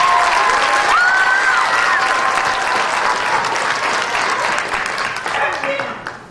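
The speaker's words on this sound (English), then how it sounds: "Let's give them another round of applause." A pageant audience applauds in a dense, sustained burst of clapping that slowly tapers off, with a voice speaking over it.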